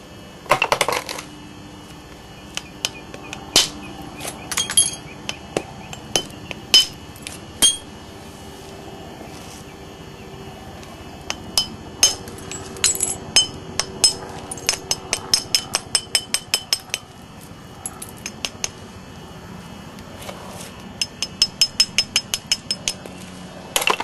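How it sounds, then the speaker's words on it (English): Sharp stone-on-flint clicks and cracks from a small hammer stone working a biface by percussion knapping, sounding close and in irregular bursts, with quick runs of light taps between heavier strikes. "Little hammer stones like this, they work out pretty good too."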